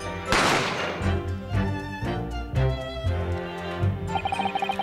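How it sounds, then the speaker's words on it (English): A single sharp, loud gunshot from The Great Ace Attorney Chronicles video game bursts out near the start, then fades under ongoing game music. "a gunshot rang in my ears"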